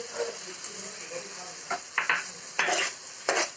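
Green peas sizzle in a frying pan with oil and red chili powder while a spoon stirs them. Four or five quick scraping strokes rise over the steady hiss of the fat.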